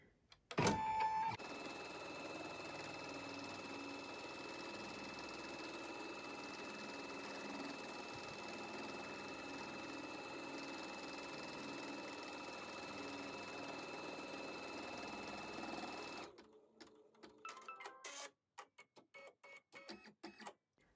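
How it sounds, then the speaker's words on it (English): Baby Lock Altair embroidery sewing machine stitching a placement line, a steady mechanical whir holding for about sixteen seconds before stopping, followed by a few faint clicks and handling noises. "let's head over to the machine and start stitching. The first thing we're going to do is stitch our placement stitch"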